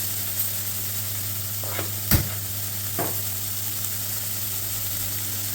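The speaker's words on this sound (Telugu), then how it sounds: "మనం కొంచెం ఇది వేగాలండి" Steady, quiet sizzle of onions and green chilies frying in a pan, with a few soft stirring scrapes and one brief clatter near the middle.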